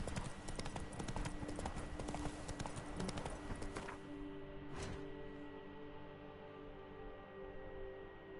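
Hooves of the horse Roach trotting in The Witcher 3, a steady close clip-clop rhythm over game ambience that eases off after about four seconds, leaving a single louder hit near the five-second mark.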